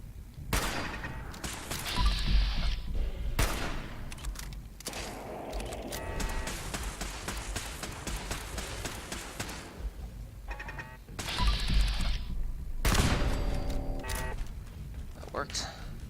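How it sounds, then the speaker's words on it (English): Sniper rifle shots and bursts of gunfire from the video game Fallout 4 VR ring out loud and close, with mechanical clatter and thuds between them and a person talking over parts of it. "Let's try the sniper rifle."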